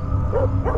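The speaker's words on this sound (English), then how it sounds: "What are you barking at?" A dog barks in the horror video game Fears to Fathom: Carson House, two short yelping barks sounding over a steady low in-game hum and background drone.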